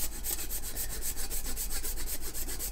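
Frozen cannabis trim grated on a microplane for ice water hash, a steady close scraping rasp with repeated strokes in an even rhythm, continuous and alone.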